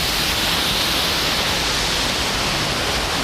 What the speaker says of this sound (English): So you can see there is a lot of force in the water that is coming out.